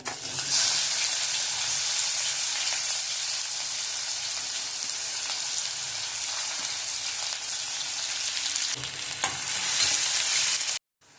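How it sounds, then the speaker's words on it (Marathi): Green chilies and ginger-garlic paste are sautéed with onion and asafoetida in a pan for a green moong usal. The sizzle is a loud, steady hiss that comes with stirring, then cuts off abruptly near the end, with no talking. "ही मिरची, अद्रक लसूणची पेस्ट चांगली थोडी परतून घ्यायची"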